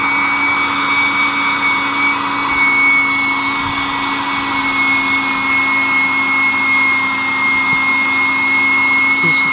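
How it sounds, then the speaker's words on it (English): Electric air pump deflating an air mattress, a loud steady motor drone with a constant whining tone that runs on unchanged throughout. "So on the top of the pump is the deflation."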